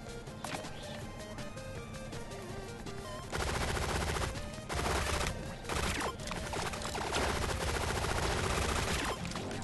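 A fast-firing, quick-reloading gun rattles off rapid bursts in the video game Relic Hunters Zero. The dense shots come in clusters over loud game music, growing busier in the second half.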